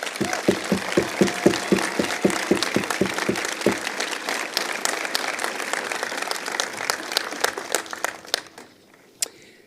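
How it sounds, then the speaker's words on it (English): A large convocation crowd applauds university graduates, opening with a few distinct rhythmic claps that swell into a full, sustained ovation and then thin out to scattered claps as it fades. "a round of applause for our graduates"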